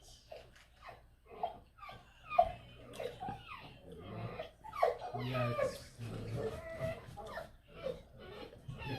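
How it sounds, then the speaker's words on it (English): A dog whimpers and gives short yips and low growls, close by, with a few brief words spoken between the sounds. "Every time somebody walk up, that dog just run wild."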